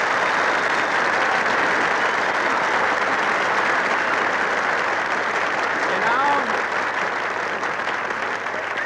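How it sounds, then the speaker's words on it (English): A full restaurant crowd at the Brown Derby applauds in sustained, dense clapping that holds steady and loud from start to finish. "everybody in the Brown Derby applauds"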